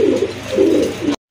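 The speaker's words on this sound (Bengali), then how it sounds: "মাশাআল্লাহ এক জোড়া লালদম কবুতর, ভাইয়ের কাছে একটা পেয়ারই আছে, খুবই সুন্দর।" A pair of Laldom pigeons cooing up close, loud, with two or three throaty rolling coos in quick succession that cut off abruptly.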